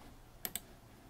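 Two quick, faint clicks of computer keyboard keys half a second apart, isolated against quiet room noise while playing Ishar 3.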